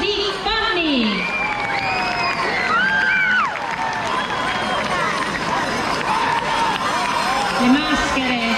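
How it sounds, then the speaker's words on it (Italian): A Sardinian carnival crowd cheers as the Urtos e Butudos masks from Fonni enter, with whistles, shouts and children's cries over a continuous roar and scattered clapping, while a voice speaks over it. "Un grande applauso, Urtos e Butudos di Fonni"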